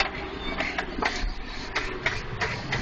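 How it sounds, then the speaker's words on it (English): A John Deere 7520 tractor pulls a 1730 11-row John Deere planter sowing soybeans, a steady close engine rumble with rhythmic mechanical clicking and rattling repeating over it. "The equipment we're running here is a John Deere"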